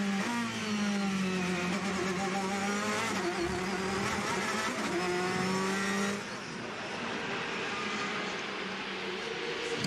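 Le Mans endurance race cars, a Ferrari among them, roar past loudly with rising engine pitch as they accelerate out of a corner, one car following closely in another's slipstream.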